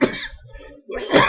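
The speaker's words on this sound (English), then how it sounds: "Oh, this cough." A person coughs close by, one harsh burst, then a short pause and a second rougher cough.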